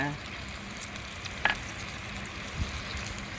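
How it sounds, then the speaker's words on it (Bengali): Spices such as garlic, ginger and cumin paste, chili, turmeric and coriander frying into a fish curry gravy with potato and pointed gourd, a soft steady sizzle with one sharp utensil clink, faint and close. "এখন আমি মশলাটাকে ঝোলের মধ্যে কষিয়ে নেব ভালোভাবে"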